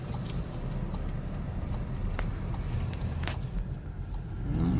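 Car engine droning steadily while climbing a series of hills on Broadway, constant low rumble with faint road noise, near and sustained, with occasional small clicks from inside the cabin.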